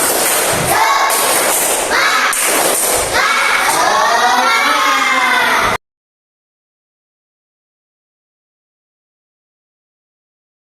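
Indonesian schoolchildren in class perform a rhythmic spirit clap chant, sharp unison claps punctuating loud shouted chanting voices, close and energetic, stopping abruptly after about six seconds and followed by silence.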